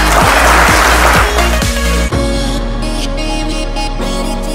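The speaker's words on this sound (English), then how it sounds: "Applause to your big boss." Audience applause at a corporate conference and awards night, a broad wash of clapping that starts loud and fades after about two seconds into a steady hum.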